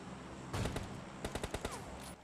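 Several rifle shots from an AWM sniper in PUBG Lite, loud sharp cracks with a burst of closely spaced reports mid-clip, no talking.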